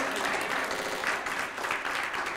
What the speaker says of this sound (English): Come on, clap your hands and tell God thank you.